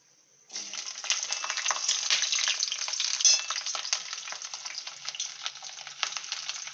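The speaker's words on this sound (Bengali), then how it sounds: "প্রথমে কড়াইতে তেল দিলাম, তারপরে একটু কালো জিরে, গোটা শুকনো লঙ্কা ফোড়ন দিয়ে তারপরে ফুলকপি আলুটাকে ভাজবো।" Cauliflower and potato frying in oil in a wok with black cumin and whole dried chillies, a close, bright crackling sizzle that starts suddenly and continues steadily with popping spits throughout.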